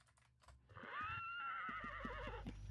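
A horse neighs in the Ultima Online video game, a loud drawn-out whinny with wavering pitch over soft hoof clip-clops and faint clicking.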